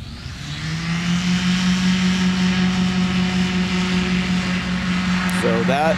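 Revo light aircraft practicing landings: a steady droning engine tone holds loud and close throughout, with a brief rising whine near the end.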